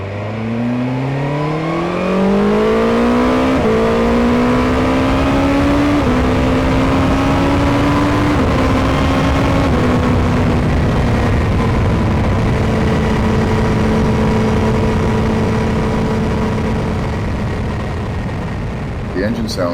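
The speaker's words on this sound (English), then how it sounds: "The engine sound still has quite a bit of mechanical noise, but this is a completely new bike" A new BMW S 1000 XR motorcycle engine climbs through the gears while riding, loud rising revs with shifts, then settling into a steady cruise hum with mechanical noise and wind.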